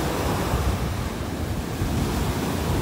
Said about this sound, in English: That wind is coming right in off the Gulf.